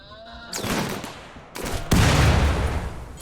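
Defensive turret gunfire at a northern pirate base in RimWorld, rapid bursts of shots starting, pausing briefly, then resuming harder and louder.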